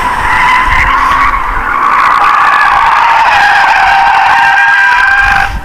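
A BMW drifts with a long, loud, continuous tire squeal and skid over the engine's roar, sustained without a break.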